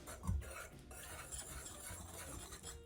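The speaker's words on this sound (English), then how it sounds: "give everything a whisk to break up any of those flours" Gluten-free flours and ground spices, including cloves, being whisked in a bowl: a faint, continuous soft scraping with a light knock near the start, quiet and close, with no voices.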